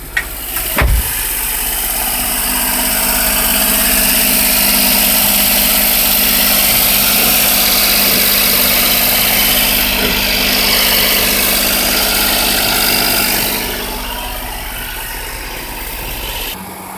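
Close, loud, and steady idle of a 1995 Daihatsu Hijet four-wheel-drive flatbed mini-truck engine, humming evenly with a constant vibration for the whole stretch and no voices.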